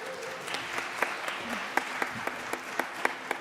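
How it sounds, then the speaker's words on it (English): Applause during a church live stream, steady crowd clapping at a soft, distant level, with sharper individual claps popping out at fairly regular intervals and some voices underneath. "So can we have a round of applause for this?"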